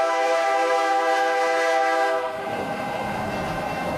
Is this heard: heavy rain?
no